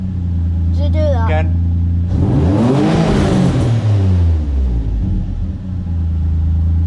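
A turbocharged Nissan 350Z idles loudly nearby while a person speaks briefly, then the engine revs up sharply, rising and falling in one long sweep before settling back to a steady idle.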